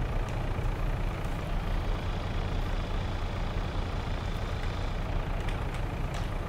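A tractor engine idles in Farming Simulator 22, a steady low rumble with a constant hum that holds at even loudness throughout, with no voices.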